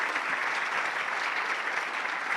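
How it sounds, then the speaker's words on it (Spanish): An audience at a logistics, free-zone and ports panel applauds the panelists, a dense steady clapping throughout at fairly close range with no voices over it. "Agradezcamos con un aplauso a nuestros panelistas"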